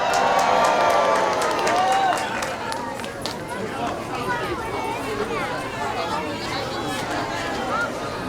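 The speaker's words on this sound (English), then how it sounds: "let's give a round of applause for our friend Holtzville Hal" A crowd applauds and cheers for Holtzville Hal, loud at first and then settling into a steady, lighter patter of clapping with chatter mixed through.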